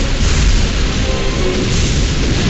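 A vehicle blowing up in Unreal Tournament 2004, a loud sustained rumbling boom that fills the whole moment with dense low roar and no speech.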